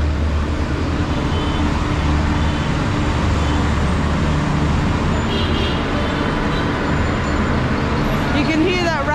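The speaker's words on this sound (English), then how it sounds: "You can hear that racket in the background. That's a generator." A generator running on a street in Baghdad, Iraq, an unbroken loud rumbling drone mixed with traffic noise, filling the background with no clear talk above it.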